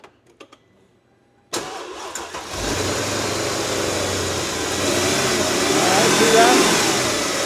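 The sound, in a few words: car engine starting, throttle moved back and forth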